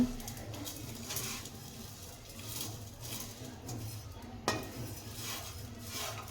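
Vermicelli roasts in a pan for shavige bath while being stirred, making a soft, continuous patter and scrape with light clinks of a utensil against the metal. Quiet and close, with no talking.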